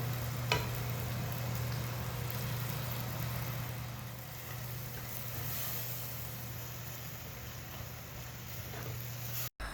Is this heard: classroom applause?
no